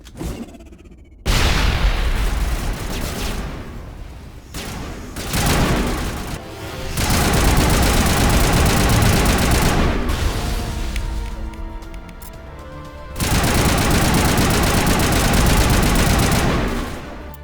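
Dense, loud gunfire in the Mass Effect Legendary Edition video game: sustained automatic bursts and booming shots that surge and ease in waves, with brief near-silent gaps between volleys.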